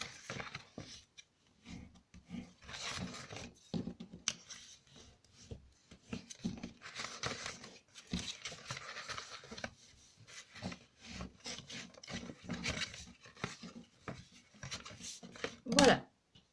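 Paper scored with a tool along its fold lines to make a storage box: a close run of dry scraping and rubbing strokes in short uneven bursts, ending in a sharper, louder stroke.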